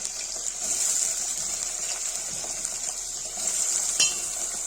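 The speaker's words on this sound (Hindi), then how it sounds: "तो अब न्यूट्री डाल दूंगी" Soya chunks fry in hot oil for Kashmiri nutri aloo sabji, giving a continuous, bright hissing sizzle with small crackles and a sharp clink near the end.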